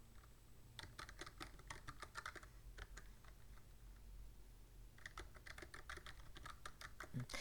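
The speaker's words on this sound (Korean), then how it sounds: "엔터 키를 눌러줘서 줄을 바꿈을 해주시면 되고요." Keys on a computer keyboard are typed in quick rapid clusters with a pause in the middle, close and quiet, ending with a slightly heavier press like the Enter key.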